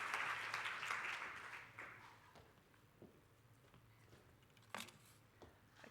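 Brief applause from a conference audience, starting fairly loud and quickly fading to scattered claps and room noise.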